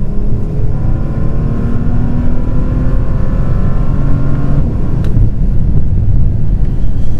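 A new Bentley Continental GT accelerates on the motorway, heard from inside as a loud, steady low engine drone with rising tones and heavy road and wind roar, no voices.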